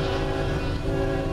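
A CN freight train led by a GE Evolution locomotive passes close and loud, a steady heavy rumble with engine drone filling the whole moment.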